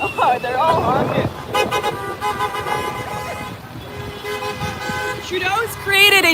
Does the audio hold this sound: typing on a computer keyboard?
no